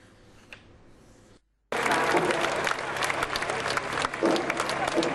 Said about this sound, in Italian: Quando la statua di Antonio esce dalla basilica, la folla applaude